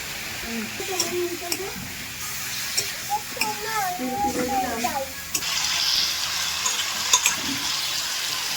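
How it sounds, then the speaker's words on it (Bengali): Chicken pieces fry with salt and turmeric in a pan over a wood-fired clay stove, giving a steady hiss with occasional spoon clicks while voices, including a child's, chatter nearby. "নুন আর হলুদ দিয়ে একটু ভাজা ভাজা করা হবে ওটা"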